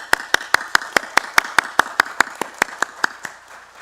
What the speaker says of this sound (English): maybe a quick round of applause